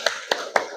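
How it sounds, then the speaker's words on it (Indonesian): Four sharp, evenly spaced hand claps in under a second, close and crisp, from a group in a classroom session. "Tepuk tangan semuanya"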